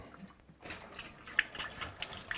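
Leftover water poured out of a Rug Doctor carpet cleaner tank, a faint, soft trickle and splash with a couple of drips, quiet and close without any voices.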